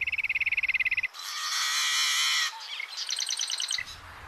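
Bright, rapid chirping trills from prairie birds in summer, one quick series followed by a buzzy call and then another run of clear repeated chirps, close and fairly loud.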